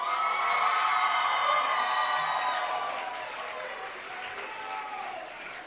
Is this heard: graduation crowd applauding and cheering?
yes